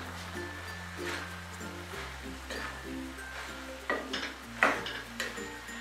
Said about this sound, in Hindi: अब इसमें हम सब राइस को डालेंगे और अच्छी तरह से मिला लेंगे।